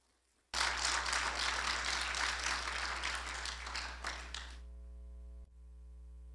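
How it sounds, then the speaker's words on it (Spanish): Church congregation clapping together in praise, a dense burst of applause that starts abruptly and fades after about four seconds, leaving a steady low electrical hum. "Démosle un aplauso al Señor"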